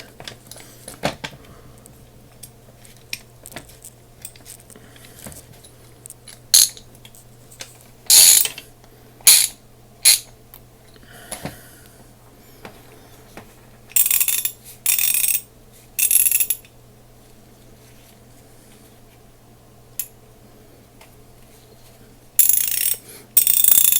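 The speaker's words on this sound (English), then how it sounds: "Yep, it's ratcheting." A DeWALT DWMT75271 1/2-inch drive ratchet being worked by hand, sharp bursts of rapid metallic clicking separated by quiet pauses, close and loud.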